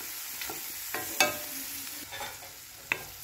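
Spices cooking in a pan for spicy chana chaat, with a soft, steady sizzle broken by a few sharp spoon scrapes and taps as they are stirred, close and fairly quiet.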